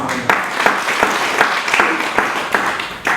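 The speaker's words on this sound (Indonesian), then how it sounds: "Kasih tepuk tangan." A church congregation applauds during a sermon, with a dense, steady wash of clapping from many hands that stays loud and even for the whole stretch.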